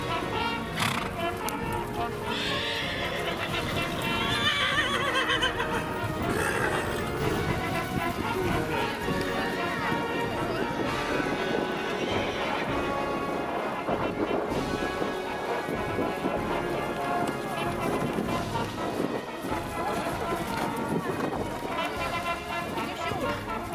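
Horses at a Hubertus stable gathering with over sixty horses, whinnies and hooves mixed into a dense, continuous outdoor din, with crowd noise and a loudspeaker voice layered over it throughout.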